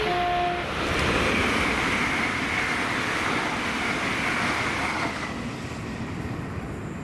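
Two coupled ScotRail class 385 electric units, 385031 and 385034, rush past close by on the 1509 Glasgow Central to Lanark service, a steady loud roar of wheels and motors with brief tonal whines early on, easing slightly near the end.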